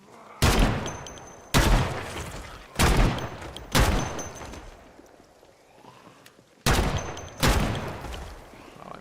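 Six loud gunshots from the zombie-survival game Project Zomboid, each a sharp blast with a decaying tail, fired in uneven bursts with a short lull between the fourth and fifth shot.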